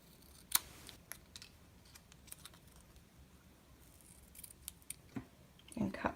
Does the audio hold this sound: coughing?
no